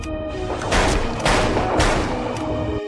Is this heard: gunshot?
yes